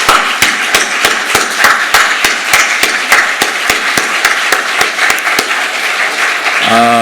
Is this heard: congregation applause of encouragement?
yes